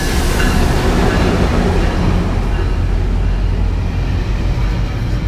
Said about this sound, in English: we got to see 2 eastbound San Bernardino lines pass through with the Operation Lifesaver car